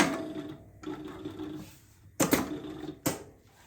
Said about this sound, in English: So this is just a basic sewing here